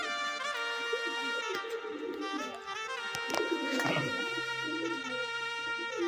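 Sirazi pigeons at a pigeon farm cooing in drawn-out, resonant throaty calls, several overlapping and fairly close, with faint chirps and small clatters in between.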